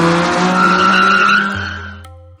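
A car tears away with a sharp tire screech and a rising engine roar, loud and close, then cuts off abruptly, used as a dramatic sound effect.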